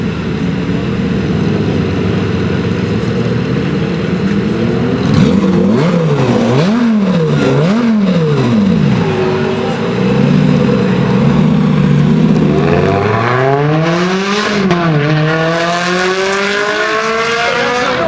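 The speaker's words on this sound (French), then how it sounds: "tu vas demander un coup d'accélérateur" A car engine in Linselles is revved hard several times, loud and close, its pitch climbing and dropping in sharp repeated swells before a final long rising rev.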